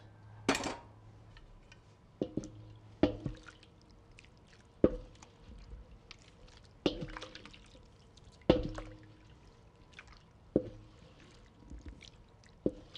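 Cheese curd pressed by hand in hot water in a kitchen, with soft irregular drips and splashes of whey against a pot every second or two, faint and close.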